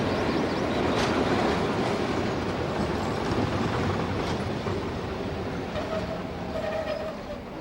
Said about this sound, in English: the familiar cry of the lesser-spotted DMU